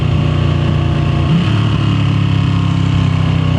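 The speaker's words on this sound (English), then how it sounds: "I will never get over those downshifts, and that's even just still stock, man" A stock-exhaust Ducati Panigale V2 sport bike, 2024 or 2025 model, with a loud, close, steady engine drone whose pitch shifts slightly partway through, like a downshift, with no voices over it.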